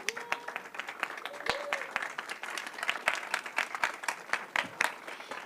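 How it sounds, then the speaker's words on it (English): Indoor audience applause honoring students at a school board meeting, dense steady clapping from a crowd lasting throughout, with a few sharper individual claps standing out. "one more round of applause for these students"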